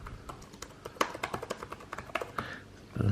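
Steady, fairly fast keystrokes clatter on a 15-inch Surface Book 2 laptop keyboard, close and clear, with a faint background hum.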